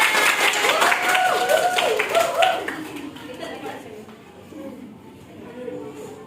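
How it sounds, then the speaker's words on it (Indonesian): A crowd claps steadily for a few seconds, then the applause fades into quieter murmuring and background chatter. "Ya betul, beri tepuk tangan."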